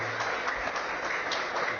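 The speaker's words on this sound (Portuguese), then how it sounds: "Vamos dar um aplauso ao Senhor Jesus pela vida desse homem de Deus" A church congregation applauds together, a dense, fairly quiet wash of clapping filling a short moment without voices on top.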